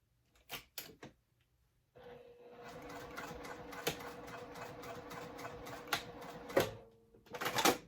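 A Janome MC 9700 embroidery sewing machine or a Juki stitches fabric in one steady, close run of rapid mechanical chatter lasting several seconds, framed by a few sharp clicks and handling knocks before and after.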